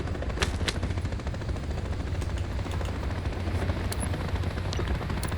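Steady helicopter rotor chop in Call of Duty: Modern Warfare III fills the scene while bursts of rapid gunfire crackle intermittently over it, dense and moderately loud.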